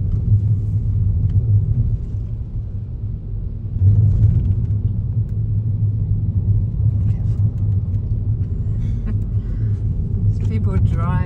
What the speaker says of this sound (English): so now we're driving back down